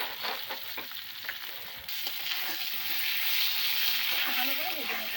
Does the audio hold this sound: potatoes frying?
yes